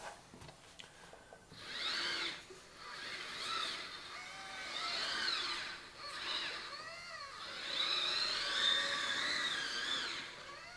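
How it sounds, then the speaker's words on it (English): Small hydraulic cylinder on an RC wheel loader opening the quick-coupler lock, a faint whirring pump whine rising and falling in pitch over several pulses, close and quiet with no talk. "There's a small hydraulic cylinder built in there, and you open it or you close it."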